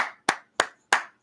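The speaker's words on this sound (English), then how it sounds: "I'm applauding these dudes." Three sharp hand claps spaced about a third of a second apart, each crisp and close with a short decaying tail, and a fading clap at the very start; no talking.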